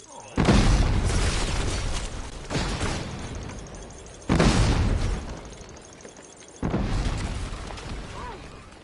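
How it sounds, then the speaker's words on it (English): Four loud bomb explosions in Lego Fortnite, each a sudden heavy boom followed by a long decaying rumble with scattered debris, spaced a couple of seconds apart. "I got bombs. Actual bombs."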